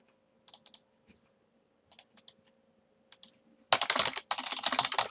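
Bursts of computer keyboard typing while writing code, several short clusters of quick clicks spaced apart, then a dense, louder run of rapid keystrokes near the end, close and clear with no talking.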